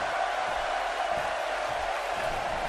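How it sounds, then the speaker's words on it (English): The SmackDown Live arena crowd roars steadily in a wrestling video game, a dense, loud wash of cheering that holds without breaks throughout. "Rollins trying to get the SmackDown Live crowd behind his team here"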